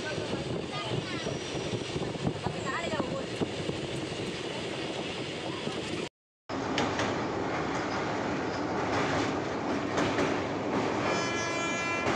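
A moving train rumbles continuously with rhythmic clatter and rushing wind, heard from onboard the carriage on the way to Cooch Behar, loud and close, with a brief break in the middle and people talking underneath.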